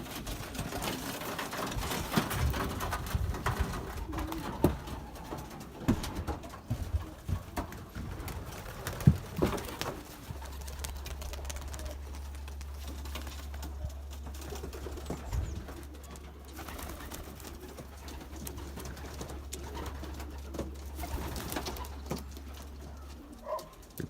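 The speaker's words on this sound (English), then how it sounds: "we call it a gray pigeon." Gray pigeons cooing in a loft, soft repeated coos near and far, with a steady low hum running underneath through the second half.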